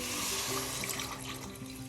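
Water pours steadily into a cooking pot on a stove, a short, quiet, continuous splashing stream with a faint tonal hum underneath.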